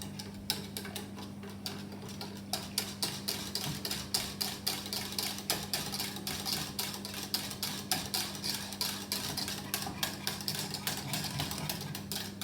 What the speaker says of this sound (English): put the pan over a medium heat and stir constantly until it thickens and bring to the boil